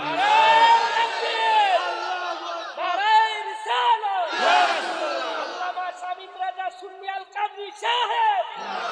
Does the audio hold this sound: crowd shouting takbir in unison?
yes